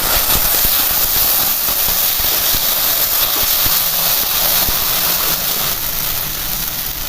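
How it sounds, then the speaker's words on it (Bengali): Green chilli, garlic, ginger and tomato masala frying in a pan gives a steady, loud, close hiss with scattered small crackles and pops throughout. "মশলাটা ভালো করে কষিয়ে নেব।"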